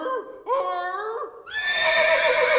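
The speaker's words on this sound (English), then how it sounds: "But then there's a horse neigh." A loud horse whinny with quavering, rising and falling calls, ending in a stronger, sustained neigh.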